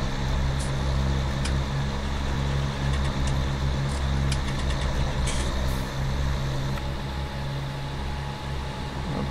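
A small tractor engine in a farming video game runs at a steady low drone, with a constant rumbling hum and faint clicks over it, loud and unbroken throughout.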